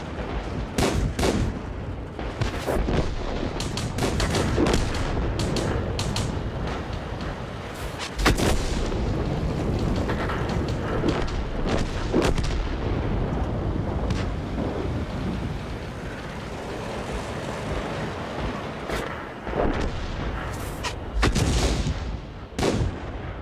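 Tank cannons fire in World of Tanks as repeated heavy booms and cracks, some near and loud, spread irregularly over a dense, rumbling, rain-like background.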